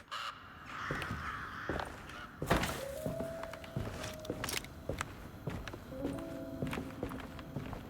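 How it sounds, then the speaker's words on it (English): Crows caw in the video game Alone in the Dark, with several harsh calls ringing out over dull thunks and footstep-like knocks in a quiet, echoing space. "Hey, more crows."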